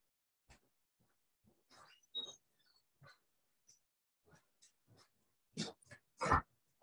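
A dog gives a few short, soft whimpers, yips and sniffs in a quiet home kitchen, scattered and fairly faint, with a louder burst near the end.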